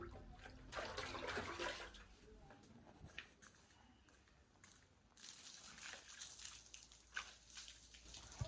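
Soapy water left from washing with shampoo is poured out, giving a steady rush of splashing and sloshing with a few louder bursts, close by and alone.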